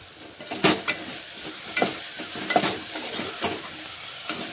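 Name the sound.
stirring and mixing masala khichdi ingredients in a pan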